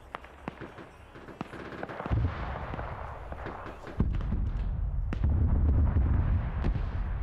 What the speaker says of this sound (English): We're gonna say it's honed in and start shelling.